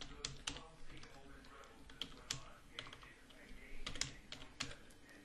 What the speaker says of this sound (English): I have to pay more attention to my typing here.